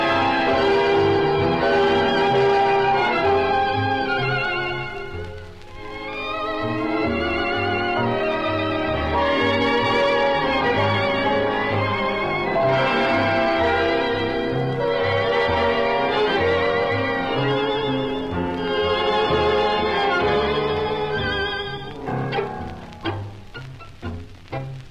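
A 1945 tango orchestra recording plays loudly and continuously, with flowing strings and bandoneon phrases swelling and dipping before a staccato close.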